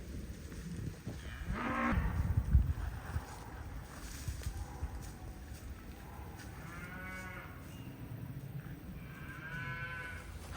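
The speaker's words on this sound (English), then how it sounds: "I'm down here in the cows, and I'm just kind of walking along through them here" A herd of Mashona cattle moos at several points, a few drawn-out calls at moderate distance over a quiet pasture background, with a louder rustling burst near the start.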